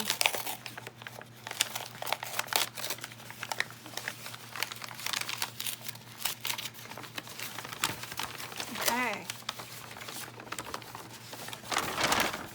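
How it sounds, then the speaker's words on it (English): Crinkling and crunching of branded paper shopping bags being worked into junk journal pages, a steady close-up rustle of sharp crackles running throughout over a faint low hum, with no talking. "I hope you like crunchy noodle, or crunchy paper sounds."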